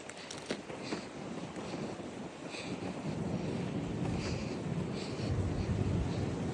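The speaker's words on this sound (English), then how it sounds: "That gotta be some 55-mile wind rushing through." High wind of around 55 mph rushing between city houses during a snowstorm, a constant broad roar with microphone buffeting that grows slightly stronger, with no talking.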